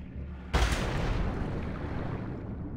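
A single loud shotgun blast in Far Cry 3 cracks sharply and close, then a long rumbling decay lingers for a couple of seconds with no talking.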